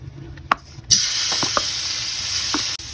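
Pork liver sautéing in a tablespoon of cooking oil for miki guisado, a steady close sizzle that starts abruptly and holds, with a few soft utensil clicks over it.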